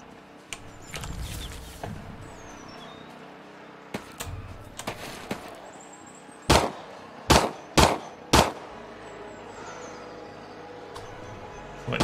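Rifles fire in Fear the Night, a handful of sharp scattered reports early on, then four loud evenly spaced shots in quick succession, with faint game ambience between them.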